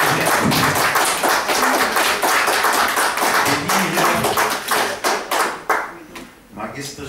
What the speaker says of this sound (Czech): Magistr Štěpánek vzbudil velký potlesk